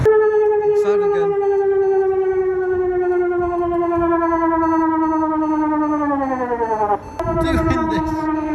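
Civil defense siren wails loud and steady on a street in Hellerup, a sustained tone that slowly falls in pitch before dipping and rising again, with faint traffic sounds.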